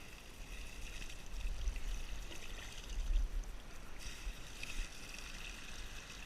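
Water is poured from a 2-litre container into a 2-inch pipe on a beach at night, giving a steady, moderately close rushing pour with gurgling and trickling that carries through the whole stretch.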